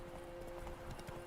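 Hoofbeats of a galloping horse in The Witcher 3 video game, a faint, rapid clip-clop rhythm over a steady low background tone, with no voices.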